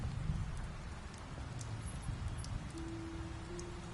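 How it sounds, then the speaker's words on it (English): Steady rain in The Wolf Among Us video game, a soft continuous wash of fine droplets with a few faint taps and a low steady hum, no voices. "When did it start raining?"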